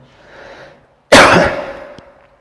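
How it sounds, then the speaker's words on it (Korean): A single loud, harsh cough close up, following a soft breath, then silence. "저 기침이 나네"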